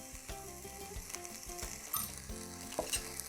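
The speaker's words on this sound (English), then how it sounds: "Next, we're going to add our minced garlic." Minced garlic sizzles in a pan with soft onions for a Brazilian black beans and corn dish, a steady close frying hiss broken by clicking, scraping stirs; nobody speaks.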